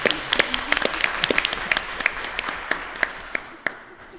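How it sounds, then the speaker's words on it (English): An audience applauds panel speakers at a Pi Day panel, dense overlapping claps with sharper single claps poking out, fairly close and even, tapering slightly at the end. "Now let's give a round of applause for all our speakers."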